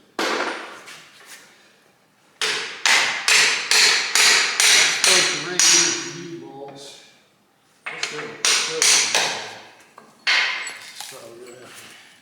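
Heavy steel hammer blows on a truck axle part during a Peterbilt 359 restoration, fast bursts of ringing clanging strikes separated by pauses, loud and close, with someone talking between them.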